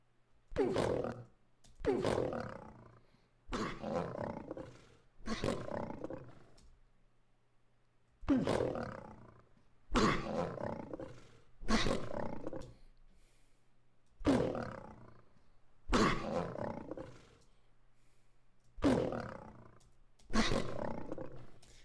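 A lion roar lowered in pitch for a game sound effect repeats about a dozen times, each deep, rough growling burst lasting roughly a second with short silent gaps between, loud and close.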